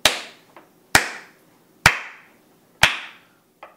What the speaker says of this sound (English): For a brief moment, you hear nothing, and then you hear a clap.